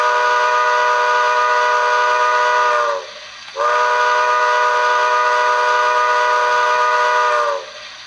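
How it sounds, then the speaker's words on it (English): A loud, long steam whistle from a Bachmann Echo Valley Express toy train sounds twice, each sustained blast lasting several seconds with a brief gap between them. "Number 2 is the long whistle blast."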